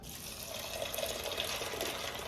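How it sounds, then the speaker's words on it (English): Tap water gushes steadily into a container being filled to soak lupini beans, a continuous close splashing stream with no talk. "We're gonna fill this right up with water."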